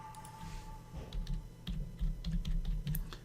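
Someone typing a search into a computer keyboard at a desk, a quick run of light, irregular key clicks in short bursts, close and fairly quiet over a steady low hum.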